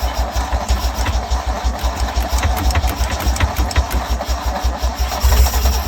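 A 1974 Nissan Caball truck engine turns over in a steady, rhythmic churn close by, the low pulsing continuing throughout and swelling louder near the end as it tries to catch.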